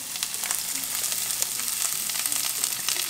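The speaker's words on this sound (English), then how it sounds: "put some grease on, put some onions, saute those onions" Onions sauteing in grease in a hot pan give a steady, dense sizzle with crackling pops that runs unbroken from start to finish, close and fairly loud.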